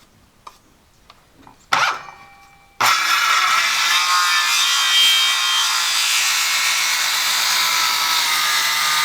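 A handsaw cutting wood during work on a farm milking parlor: a few light clicks and knocks, then a loud, steady, continuous rasping cut that runs for about six seconds with no talk.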